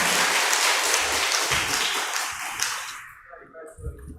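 A church congregation at a Sunday service claps in blessing for election candidates. Dense, loud applause fills the room, then fades out over the last second with a few stray claps.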